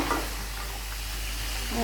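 Desi chicken, home-raised, frying in oil in a pan until the oil separates, giving a steady close sizzle with light stirring and no talk.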